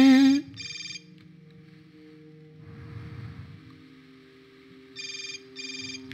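A cell phone rings in two short trilling bursts in the video game Hotline Miami 2, then a quieter stretch of low game ambience follows, and two more identical ring bursts come near the end.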